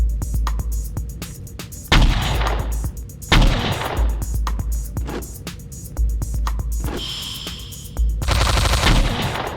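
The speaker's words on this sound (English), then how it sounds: "I'm being shot from 100 miles away." Repeated gunfire from pistols and rifles in the 2009 FPS Creator game Mob Ties Tokyo, with loud bursts and single shots throughout and a sharp electronic whine near the end.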